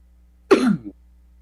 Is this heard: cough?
yes